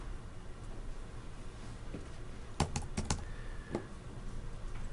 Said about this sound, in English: So whenever you type in a search